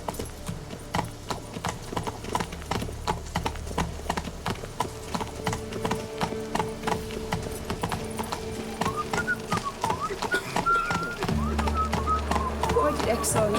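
A horse gallops in The Witcher 3 with a continuous, even clip-clop of hooves, loud and close, while game music and occasional voices carry on underneath.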